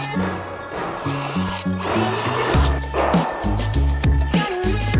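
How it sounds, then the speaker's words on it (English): A power drill fitted with a pilot bit bores holes for brackets on a deck frame, in repeated short bursts of whirring with brief pauses between, close and loud. "Josh decided to go with the pilot bit for his brackets."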